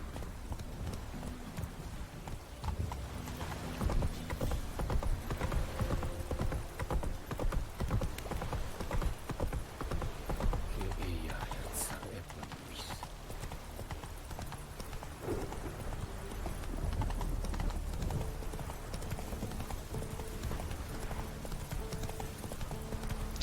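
Roach, Geralt's horse in The Witcher 3, clip-clops steadily along at a brisk trot, hoofbeats continuous and fairly close, mixed with game music and ambience.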